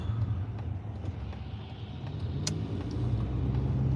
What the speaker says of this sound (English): This car was speeding up.